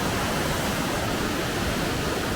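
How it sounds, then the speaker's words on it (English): A fast glacial river in British Columbia, milky blue with rock flour, rushes past in a steady, dense roar that fills the whole clip, close and unbroken, with no voices. "you can see how fast that river's going"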